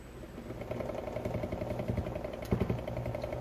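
A small electric motor runs on a pulsed 6-volt supply from a 555-timer switch tester at 50% duty cycle, giving a steady buzzing whir with a faint rattling pulse and a brief louder clatter midway.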